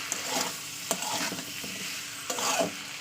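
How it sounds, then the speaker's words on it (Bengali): Spices with turmeric and salt stirred in hot oil, a steady sizzling frying hiss with a few sharp spatula scrapes against the pan, close and fairly loud, no talking. "শুধু হলুদ আর লবণ দিয়েই আমি কষাচ্ছি তেলের সঙ্গে"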